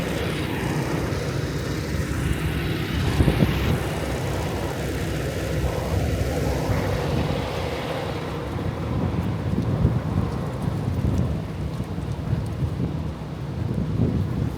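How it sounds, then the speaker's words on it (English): Strong wind blowing steadily and roaring around a truck and trailer in cold winter weather, buffeting the microphone with low rumbling gusts, loud and continuous throughout. "That wind blowing."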